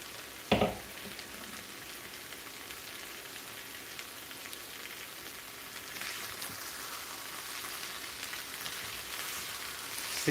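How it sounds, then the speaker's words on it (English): Dried loitta shutki fish sizzles steadily in a pan as a Bangladeshi curry cooks, a constant hiss like light rain with one sharp clatter near the start and no talk. "Look at the sizzle sound."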